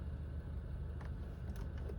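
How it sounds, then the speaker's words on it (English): A 2015 Honda Fit with 90k miles idles smoothly after a valve adjustment, giving a steady, even low engine hum that stays constant throughout, with faint higher ticks near the end. "It's running. You can see it's running. It's idling,"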